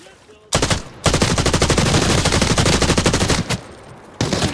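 SMG gunfire in the shooter game Arena Breakout Infinite: two long rapid automatic bursts with a brief gap, then a short final burst, loud and close with sharp regular shots.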